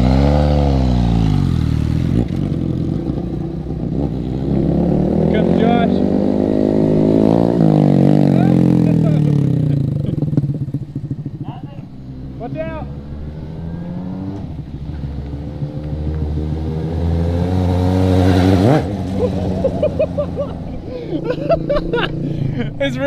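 A Suzuki GSX750 motorcycle revs loud and close, its engine note climbing and dropping through repeated throttle sweeps before a jump, with rattling clatter and people talking throughout.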